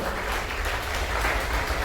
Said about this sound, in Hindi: तो फिर से एक बार जोरदार तालियां आर उपाध्याय सर के लिए, ऑफिस की शशिकांत मैडम जी के लिए, जोरदार तालियां हाथ उठाकर।